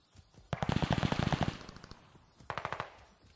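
Rapid machine gun fire rattles in a video game hardpoint match, a dense burst of shots lasting about a second followed by a shorter second burst, fairly loud and close with no talk over it.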